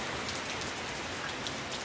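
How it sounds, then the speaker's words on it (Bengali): Rain drumming on a tin roof in a village, heard from beneath a shed as a dense, steady, close patter of drops with no voices. "বৃষ্টির শব্দ শুনতেছেন, চীনের চালায় বৃষ্টির শব্দ"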